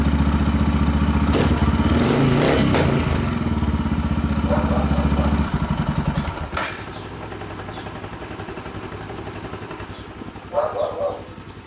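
Motorcycle engine running just after starting with the choke on, a loud close rapid idle chug that drops to a lower, steadier putter partway through, with a brief clatter near the end.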